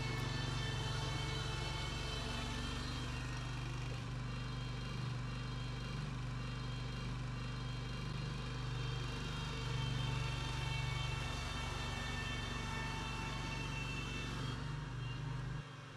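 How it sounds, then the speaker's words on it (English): A Spider remote-controlled slope mower driving: a steady, droning engine hum with a buzzing tone, close and constant for the whole stretch, fading only at the very end. "The drive function is proportional, which means the more you press the drive joystick, the faster the mower drives."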